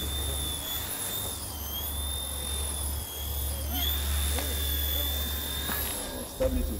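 A quadcopter drone flying nearby with a steady helicopter-like buzz, its whining rotor tones holding and shifting slightly while people talk over it.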